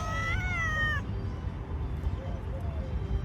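A cat meows in a short, rising call near the start, then traffic and general street noise continue underneath.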